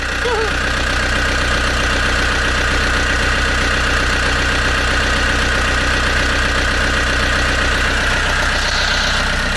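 A damaged narrowboat engine idling, a loud steady low throb with a regular knocking rhythm and a mechanical whine, continuous throughout with no pause.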